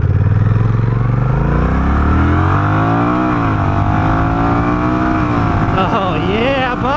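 A Honda Rebel 1100 DCT motorcycle in sport mode pulls hard under full throttle, engine pitch climbing and dropping through automatic gear shifts, loud and continuous throughout.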